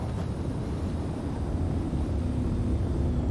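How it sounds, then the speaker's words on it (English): A spacecraft engine in a video game drones as a steady, dense low roar with a slight swell in loudness as the throttle changes, and no talking. "Why is it that I can hear myself throttling up and down"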